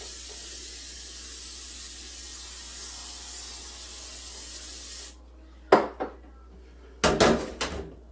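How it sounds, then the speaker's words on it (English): Cooking spray hisses steadily onto a cake pan held over a kitchen sink for about five seconds, followed by a few sharp knocks and clatters of the pan and cupboard. "I'm also going to spray my pan, only I spray it over my sink."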